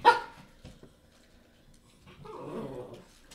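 A dog gives a sharp, loud bark at the start, then quiet whimpers and a low, grumbling growl-like stretch follow before another brief bark at the end, heard close indoors.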